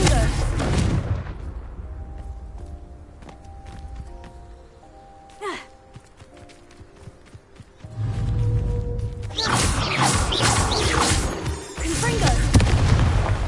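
Confringo fire spells blast in Hogwarts Legacy, a string of booming hits with crackling debris between them, the heaviest bursts near the end. A voice speaks in the game.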